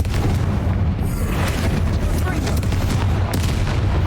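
A fiery Confringo spell explosion in the video game Hogwarts Legacy gives a loud, dense rumbling boom that fills the whole stretch, heavy in the low end.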